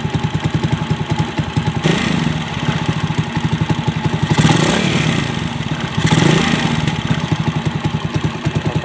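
A pushrod-type carbureted motorcycle engine idles steadily up close, its rapid even chuffing and clatter running throughout with a few brief rises in revs.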